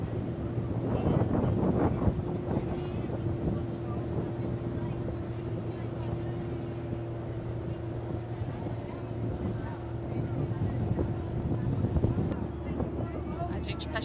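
A boat's engine drones steadily on a river near Siem Reap, Cambodia, a low constant hum under wind buffeting the microphone, with people talking faintly over it.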